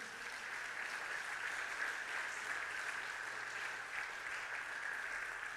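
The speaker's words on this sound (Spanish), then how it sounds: "Dele fuerte aplauso al Señor Jesucristo." Steady applause from a church congregation fills the space for several seconds, even and sustained at moderate loudness, with no talking over it.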